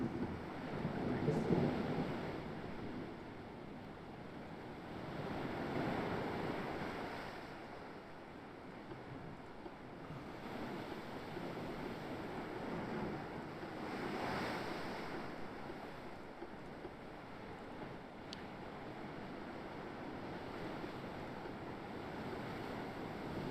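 A naval video game plays a rainstorm at sea, with steady rushing rain, wind and surf washing in slow swells throughout. It sounds moderately loud and continuous.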